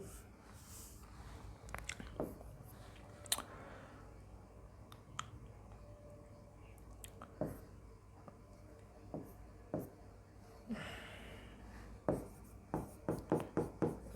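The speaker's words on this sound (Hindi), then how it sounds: "मैं यही लिख देता हूं इसको" Chalk or marker strokes on a classroom board during a physics lesson, a series of short scratchy taps and squeaks that grow quicker and denser toward the end, close and fairly clear, with no speech over them.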